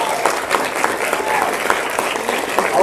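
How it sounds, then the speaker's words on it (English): Steady audience applause fills a dinner-series talk venue, a dense close wash of clapping from a full room held at an even loudness throughout, with no voices on top. "Let me give her a round of applause."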